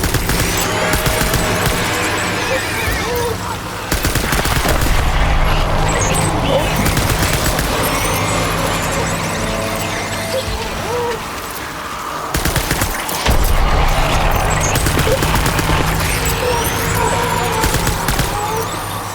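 Sustained bursts of automatic gunfire from the video game Death Stranding, loud and dense, rattling almost continuously with brief gaps between volleys.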